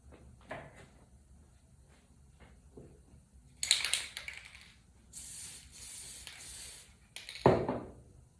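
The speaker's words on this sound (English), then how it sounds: "I'm going to do that using the spray glue again." A few hissing bursts from an aerosol spray glue can, some short and one longer run, close by, amid quiet clicks and handling noises.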